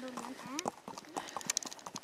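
A horse's hooves clip-clop on a rural track as a rider travels along, with quiet irregular hoof beats heard under people talking nearby and a brief neigh-like sound.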